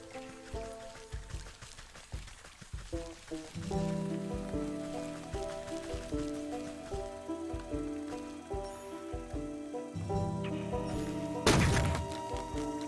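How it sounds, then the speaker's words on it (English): Rain in the video game Wytchwood, a soft patter of drops on surfaces beneath a gentle melodic music bed, with a brief louder thump near the end and no talking. "that rain noise is gorgeous"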